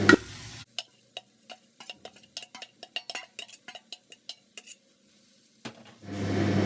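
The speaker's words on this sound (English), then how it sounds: "Mix the beetroot" Grated beetroot being mixed into a frying mixture in a pan, a quick series of close clinks and scrapes from a spoon against metal over faint sizzle, with louder frying before and after.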